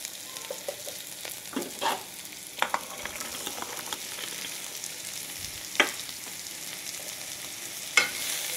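Carrot pieces stirred in a pan with hot oil and turmeric, giving a soft steady sizzle with scattered scraping clicks of a spoon against the pan, close and moderately quiet, no voices.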